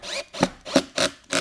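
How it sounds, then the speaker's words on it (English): Self-countersinking screw driven into wood for a 10-frame Langstroth beehive, giving four short grinding bursts of roughly a quarter second each at a steady rhythm, close and fairly loud with brief gaps between. "so we'll just stick the screw in here"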